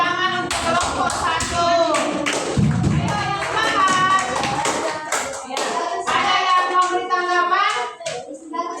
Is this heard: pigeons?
no